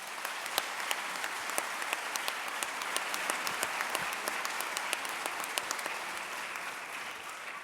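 Sustained, even applause fills a hall at the installation ceremony of a new mayor in Noardeast-Fryslân, a steady wash of many hands with individual claps popping out, with no talking.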